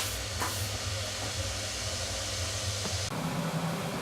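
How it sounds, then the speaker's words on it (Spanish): Spaghetti goes into a pot of boiling water with olive oil, producing a loud, steady rushing hiss of bubbling that shifts in tone partway through. "El agua ya está hirviendo y echamos los espaguetis."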